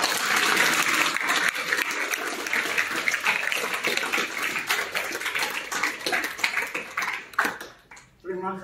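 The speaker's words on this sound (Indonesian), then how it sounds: "Berdiri dan memberikan tepuk tangan bagi Yesus Tuhan." A large standing church congregation at a Sunday service claps steadily and loudly, a dense wash of applause that continues for several seconds before cutting off near the end.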